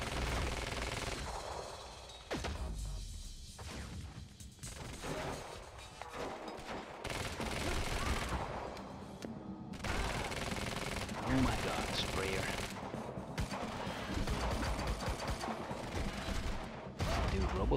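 Bursts of rapid automatic gunfire and heavy shots in the Quantum Break video game, loud and repeated in clusters with brief gaps, mixed with game voices talking.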